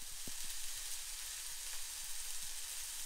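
Canned black beans are rinsed under running water in a home kitchen, a steady close hiss of flowing water with soft irregular patters and splashes as the beans shift, no voices.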